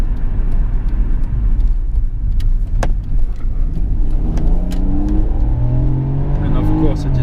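A 1997 Nissan Stagea RS Four V with four-wheel drive accelerates, its engine note rising steadily in pitch from inside the car while someone talks over it.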